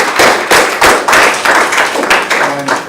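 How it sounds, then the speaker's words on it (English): Audience at a student government meeting applauding graduating students, loud close hand claps in irregular bursts over a few seconds. "big round of applause for graduating"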